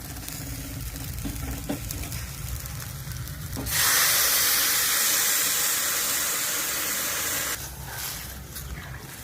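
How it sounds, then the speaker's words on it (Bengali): Hot water poured into a pan of frying dried and green chillies gives a sudden loud, steady burst of hissing steam and sizzle lasting about four seconds, set between quieter stretches of low sizzling. "এখন গরম জল দিয়ে দেবো"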